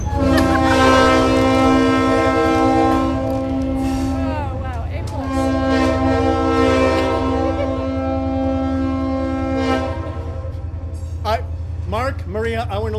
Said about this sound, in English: that train runs down this track only often enough to keep this line from being officially legally derelict